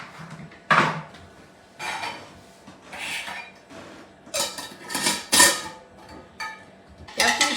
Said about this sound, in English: You have to be sure to have a big spoon to stir it.